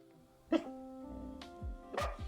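Dog barking indoors, a couple of short faint yips and barks spaced apart over a quiet background.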